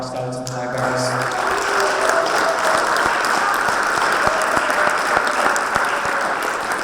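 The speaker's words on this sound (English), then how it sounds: "Can we have a round of applause for all of our scouts and flag bearers?" An audience at an anniversary observance of the Treaty of Paris applauds scouts and flag bearers, a dense, sustained clapping with some sharper individual claps standing out, following a brief spoken end.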